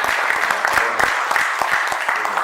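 Seminar attendees at a centenary event on the Russian Revolution clap together in a sustained round, crisp individual claps audible within the wash, with a faint voice underneath.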